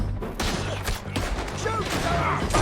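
Gunfire from a town shootout in Red Dead Redemption 2, with repeated shots cracking in quick succession over a steady low rumble, sometimes layered. Distant shouting and voices mix into the dense din.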